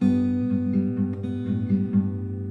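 Fingerstyle acoustic guitar plays the post-bridge part of a song, a steady picked pattern of alternating bass and treble notes ringing together, close and clear with no talk.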